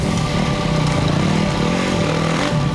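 Off-road race motorcycle engine in a desert dust race, droning loud and steady with a constant high-revving buzz throughout, close and continuous with no talk.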